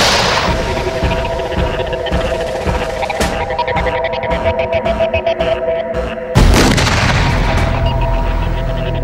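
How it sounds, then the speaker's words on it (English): A bounding landmine explodes with a sudden heavy boom after a stretch of rumbling, sharp impacts, the blast leaving a loud, lingering roar. "the mine actually erupts out of the ground to about 2 metres and sends out metal in a 360-degree arc"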